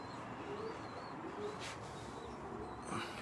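Birmingham Roller pigeons in a loft, about 35 hens in molt, coo softly at a steady low murmur, with a few higher chirps scattered over a constant background hum.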